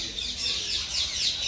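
Birds calling inside a park aviary, parrots among them, with sharp repeated chirps and squawks crowding together at close range over a dense, noisy background.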